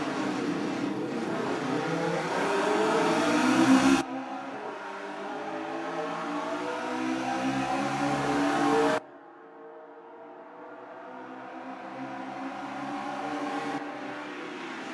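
Mini race cars accelerate at the start of a night race, engines droning and rising in pitch in long steady sweeps, fairly loud and continuous, with abrupt cuts between segments and no talk.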